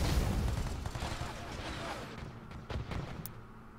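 Shots strike a rocket battery in the strategy game This Means WAR!, heard as a rumbling barrage of booms and blasts that trails off into quieter impacts, with no talk.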